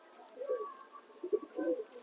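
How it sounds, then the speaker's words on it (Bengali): Pigeons coo softly in a loft, a few low rounded calls rising and falling in short bursts at close range, with faint background hiss and no speech. "বিকেল বিকেল চলে এসেছি পায়রার লফটে"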